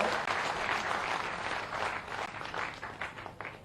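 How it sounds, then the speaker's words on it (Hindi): A crowd at a political rally claps loudly and steadily to welcome a leader, a dense, continuous wash of applause that holds strong for several seconds with no voices over it. "जरा जोरदार ताली बजा के स्वागत करो"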